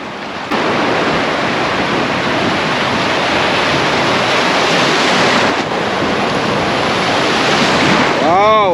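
Sea waves break on the shore during a coastal trek, a loud, continuous wash of surf with wind buffeting the microphone and a brief lull partway through.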